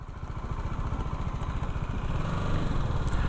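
A BMW G310 GS motorcycle engine runs nearby with a steady, throbbing low rumble and a slight rise in level toward the end.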